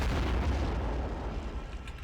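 Artillery in the Men of War: Assault Squad 2 war game fires a heavy, rumbling boom that rolls on as a dense, sustained blast with no talk over it.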